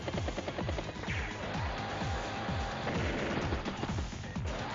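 Rhythmic volleys of artillery fire in the turn-based strategy game Advance Wars: Days of Ruin, a steady series of booming shots with descending whistles, loud and continuous with no talk over it.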